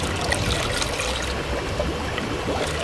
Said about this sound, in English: Oh no, I need to refill the water tank.